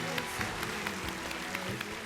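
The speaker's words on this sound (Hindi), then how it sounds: "तालियां बजाइए, खूब खूब बजाइए।" A television studio audience at a Ramazan iftar show claps steadily, the rapid patter of many hands a little way off and fairly quiet.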